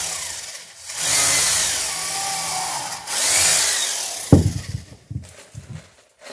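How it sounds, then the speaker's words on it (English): Power drill driving ring nails into pine planking while building a wooden dory, two sustained whirring bursts with a short pause between, then clattering knocks and handling noise as the tool stops. "Gotta get the drill to"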